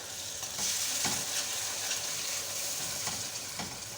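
Close, steady sizzling of ginger, garlic, tomato and green chili paste frying in a hot pan for chicken karahi, with soft scraping stirs coming through at intervals.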